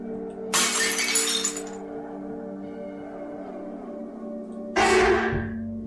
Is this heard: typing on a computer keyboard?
no